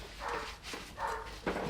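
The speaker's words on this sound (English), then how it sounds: "someone's upset the neighbour's dogs again" Neighbouring dogs bark in a few short bursts at a moderate distance, heard fairly faintly with no talk over them.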